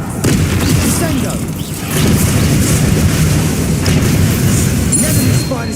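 In the video game Hogwarts Legacy, the Descendo spell slams down with heavy, loud booming rumbles that surge and then carry on through sustained crashing impact noise.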